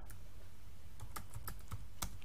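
Quiet keystrokes on a computer keyboard, a handful of separate clicks at an uneven typing rhythm, close and alone with no talk.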